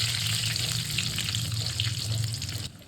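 Cashew nuts fry in hot oil in a pan with a dense, crackling sizzle over a low steady hum, continuous and close until it drops away at the end.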